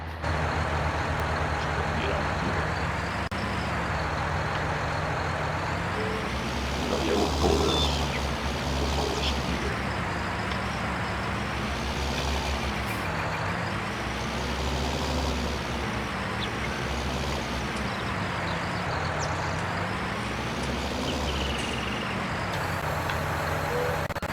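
A modded tractor in Farming Simulator 19 pulling in 15th gear, a loud, steady diesel engine drone whose pitch rises and falls in slow waves as the revs change.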